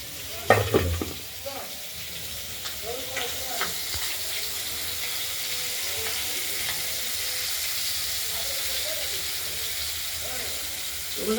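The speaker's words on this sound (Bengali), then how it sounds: "আর মাছগুলো ভাজা চলছে দেখতেই পাচ্ছেন" Pieces of fresh rohu fish sizzle steadily in hot oil in a pan, a continuous bright frying hiss with a few clinks and stirring knocks near the start.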